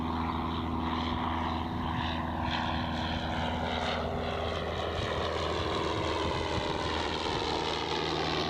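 A propeller aircraft on a flight-school training flight at Gold Coast Airport drones steadily at a distance, a continuous engine hum with slowly shifting tones and no talk.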